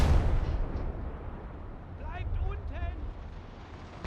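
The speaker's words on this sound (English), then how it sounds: "Those aren't necessarily mortars, those are AT guns." Anti-tank guns firing in the World War II game Gates of Hell, heard as a steady low rumble of distant heavy booms, with a voice talking over the middle of the clip.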